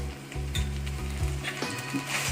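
Ginger garlic paste fries in a pan with Kashmiri red chili for a spicy dry chicken sukka masala, a steady close sizzle broken by a few scraping stirs of a spoon against the pan.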